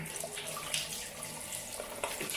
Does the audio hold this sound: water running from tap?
yes